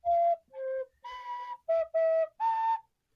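A recorder played in short separate notes, six breathy tones at shifting pitches with brief gaps between them, close and fairly loud with no talking.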